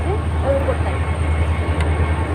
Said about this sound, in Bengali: দেখুন ট্রেন যাচ্ছে